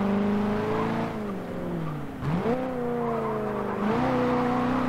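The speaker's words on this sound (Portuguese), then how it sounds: "O bicho acelera que é uma delícia." In Forza Motorsport 7, the Christine car's engine revs and climbs through the gears, with steady rising tones broken by sharp shift dips, loud and close, and no talk over it.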